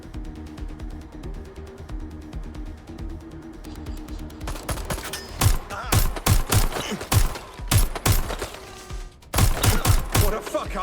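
Video game gunfire in Watch Dogs: Legion, rapid sharp shots in loud bursts, sparse at first and then dense volleys, with brief pauses between them.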